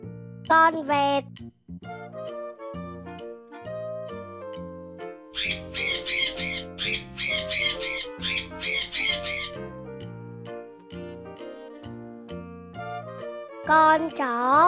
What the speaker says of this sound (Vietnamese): Con vẹt.